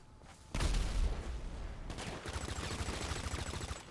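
Explosions and rapid gunfire from GTA 5 Online played in first person on PS4 form a dense, loud burst that continues as sustained, crackling fire with no talking.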